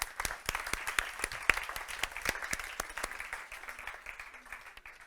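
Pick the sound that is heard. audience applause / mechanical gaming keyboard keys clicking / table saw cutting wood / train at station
audience applause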